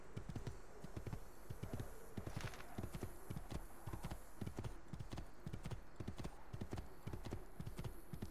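Horse hooves clip-clop steadily at a walking rhythm in Assassin's Creed 2, quiet and close, with no talk.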